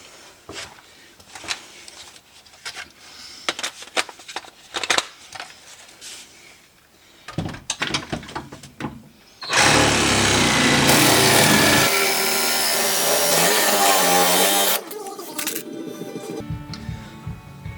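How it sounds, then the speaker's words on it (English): A rubber bump stop on a Honda Pilot is worked with a tool, first in scattered scraping and knocking noises, then a loud continuous powered cutting whine for several seconds before handling sounds return. "So I'm just going to slice it down in pieces"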